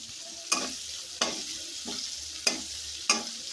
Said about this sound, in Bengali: তো এটা আমি একটু ভাজা ভাজা করে সব মশলা একটা করে দিয়ে দিতেছি।